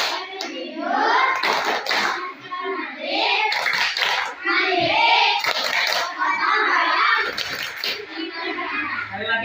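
Classroom of children performing a rhythmic cheer clap together, sharp hand claps punctuating chanted young voices in a lively, fairly close group burst lasting several seconds.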